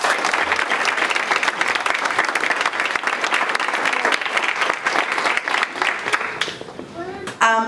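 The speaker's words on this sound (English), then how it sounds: "I'd like to ask all of you to give them a big round of applause for everything" Sustained audience applause at an honors ceremony fills most of the stretch, dense and even, then tapers off as a voice begins speaking at the end.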